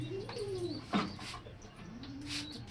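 Domestic pigeons cooing in a loft, a few low rising-and-falling coos close by with a brief sharp knock or flutter partway through, under a steady background hum.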